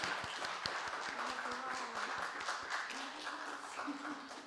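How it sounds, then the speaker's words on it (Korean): Congregation applauding at a church gathering, sustained even clapping from a crowd at moderate distance, with a voice talking over it throughout. "박수."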